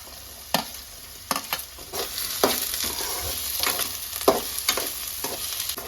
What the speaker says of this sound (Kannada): ಬೀನ್ಸ್ ಹಾಕೊಂಡ ನಂತರ ನಾನು 1-2 ನಿಮಿಷದವರೆಗೂ ಇದೇ ರೀತಿ ಹೈ ಫ್ಲೇಮಲ್ಲಿ ಇಟ್ಟುಕೊಂಡೆ ಫ್ರೈ ಮಾಡ್ಕೊಂಡಿದ್ದೀನಿ